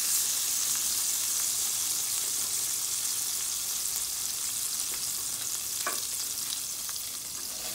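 Mushrooms frying in a pan in a home kitchen for a vegan butternut squash gnocchi dish, a steady bright sizzle, close and continuous, with occasional faint stirring clicks.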